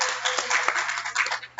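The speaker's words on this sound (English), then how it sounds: "Give yourself a round of applause." Scattered hand claps patter through a brief round of applause, a handful of sharp taps at close range with no voices.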